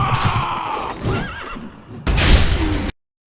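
Horse in the video game Sekiro: Shadows Die Twice gives a loud whinny, followed by a wavering neigh and a burst of hooves and game noise before cutting off abruptly.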